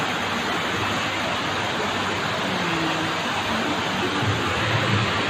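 Waterfall in a natural setting, a steady dense rush of falling, flowing water that stays loud and unbroken from start to finish, with no voices over it.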